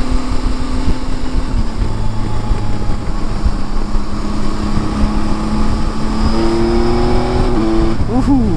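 A Yamaha MT-09 Tracer GT motorcycle engine drones loudly and steadily, shifting pitch as it pulls, then climbs in a quick rising rev near the end, heard close over wind noise.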